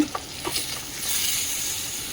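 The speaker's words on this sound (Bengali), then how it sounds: "এই যে আমি পেঁপেটা ভাজা করছি অল্প করেই" Papaya frying in a pan, a steady close sizzle with a few stirring scrapes and taps near the start, continuous and alone.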